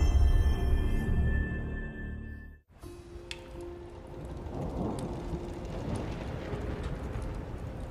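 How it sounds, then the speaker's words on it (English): In God of War Ragnarök, a game thunderstorm plays as a heavy low thunder rumble that cuts off abruptly, then steady pattering rain with scattered drops settles in as a continuous wash, without voices. "It's quite the storm we're having."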